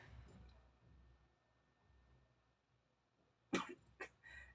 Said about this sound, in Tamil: என்ன இருமல் தான் வருது?